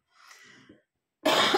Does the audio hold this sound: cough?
yes